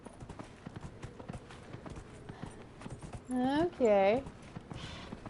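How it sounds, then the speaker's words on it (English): Horse hooves clip-clop in a steady rapid patter through the Dragon Age Inquisition video game, with someone talking over the hoofbeats and a whinny breaking in midway. "That's the sound the horse makes."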